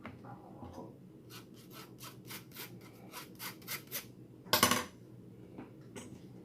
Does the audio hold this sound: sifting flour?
yes